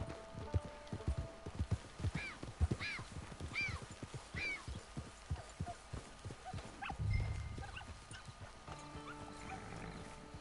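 Hooves clip-clop in a steady trotting rhythm in Red Dead Redemption 2, fairly close, with a brief neigh partway through and quiet ambient tones behind.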